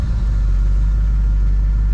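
A 1970 Oldsmobile Cutlass SX engine running just after starting, a loud close low rumble that holds steady and even throughout with no voices.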